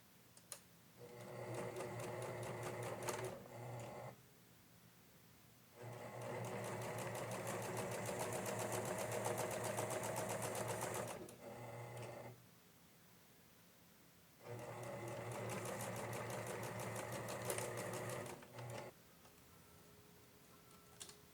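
Sewing machine stitching the shoulder seam of a 1950s-style dress, running in three steady bursts of rapid mechanical whirring separated by short pauses, close and clear.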